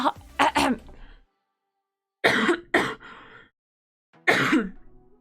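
A few harsh throat-clearing coughs in short bursts, close by, separated by pauses of silence.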